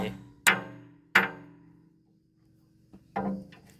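Three heavy hammer strikes drive at a steel pin on a backhoe excavator, each a loud close clang that rings briefly before fading, spaced unevenly with a soft tap between the last two.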